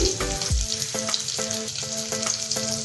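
Green chillies, curry leaves, coriander and cumin frying in hot oil, a close, continuous sizzle broken by a few sharp stirring clatters and with no talking.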